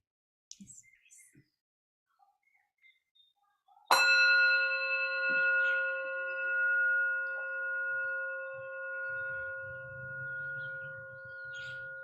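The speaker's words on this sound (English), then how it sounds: "I'm going to invite one sound of the bell" A single strike of a mindfulness bell before a guided meditation rings out suddenly and clearly, then hums with a long, steady, slowly fading tone in a quiet room, with faint movement beneath it.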